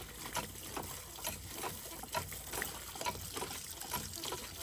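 Freshly dug yams being rinsed in clean well water, with steady splashing, trickling and sloshing close by, continuous throughout with no talk.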